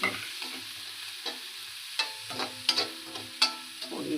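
Onions sautéing in a pan sizzle softly while a spoon stirs them, with sharp metallic clinks and scrapes against the pan at irregular intervals. No one speaks.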